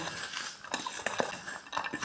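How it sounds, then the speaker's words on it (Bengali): Water spinach salad being tossed with utensils in a bowl, a run of soft clinks and scraping clatters repeating irregularly, close and moderately quiet with no talk. "সব মিক্সড করে নেব"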